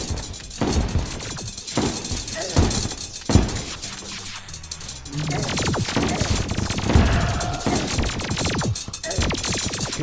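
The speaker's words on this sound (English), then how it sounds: "That's what I like about the shotgun, though. You usually catch a few of them." Shotgun blasts in the video game Terraria, loud repeated bursts with shattering impacts over a dense, busy battle mix, firing in quick irregular volleys throughout.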